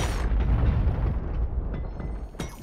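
A loud video-game explosion bursts with a heavy rumbling roar, then settles into a decaying crackle, with a sharp secondary pop near the end.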